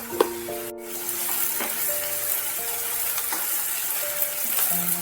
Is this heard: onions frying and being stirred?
yes